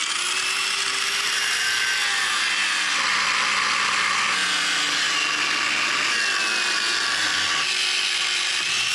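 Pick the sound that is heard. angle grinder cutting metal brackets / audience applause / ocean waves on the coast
angle grinder cutting metal brackets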